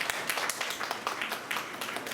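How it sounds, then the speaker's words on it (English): Audience applause for teacher Dr. Beena Vernekar at an exhibition of wild vegetables and medicinal plants, a continuous patter of many hands clapping, moderately quiet and steady throughout. "Let's give a big round of applause for our teacher."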